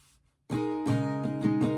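After a moment of quiet, an acoustic guitar begins a brisk chord strumming pattern, full and ringing up close, with no speech.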